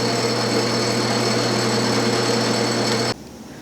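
A machine tool takes cutting passes on a part during a rotary table restoration, a steady high-pitched whine and hum running continuously and fairly loud before stopping abruptly near the end.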